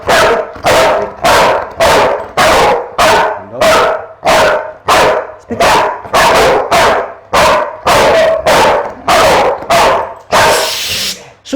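A pitbull barks on command in a steady series of about fifteen loud, close, evenly spaced barks, with a brief whimpering yip near the end and no talk over them.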